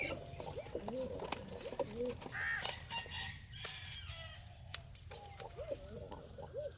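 Racing pigeons cooing repeatedly in soft, rolling bursts close by, with a crow-like call and some background voices and rustling in a loft.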